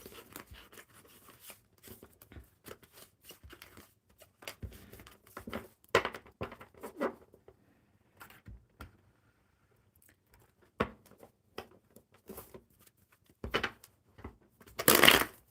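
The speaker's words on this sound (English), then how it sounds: "I'm going to put these cards, the ones that were out," Playing cards shuffled back into a deck, a string of soft riffling, sliding and tapping bursts scattered across the stretch, with a louder flurry near the end and no talk.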